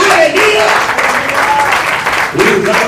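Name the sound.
congregation clapping hands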